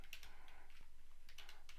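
Light, quick keystrokes tapped on a computer keyboard while writing text into a presentation page, a few soft clicks in small clusters over a faint steady hum.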